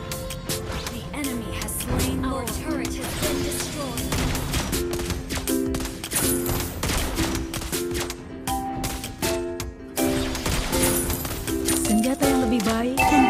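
Rapid bursts of gunfire from Beatrix in the mobile game Mobile Legends crackle over layered game music and effects, dense and continuous throughout, with a voice speaking in the mix.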